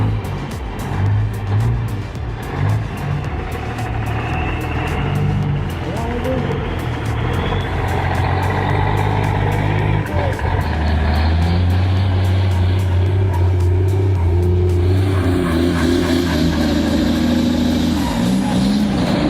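Heavy diesel engine of an Equus 175N skidder logging machine working timber, a steady loud rumble with shifting load and revving throughout, under a voice.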